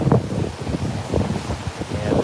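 Water rushes and breaks along the side of the Cunard Queen Anne cruise ship at sea, a close, uneven surging wash mixed with gusty wind buffeting the microphone.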